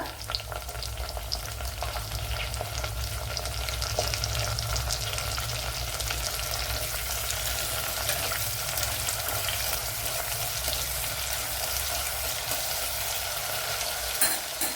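Fresh curry leaves and dried chillies fry in oil for a lemon pickle, giving a continuous close sizzle with occasional stirring scrapes and no voices.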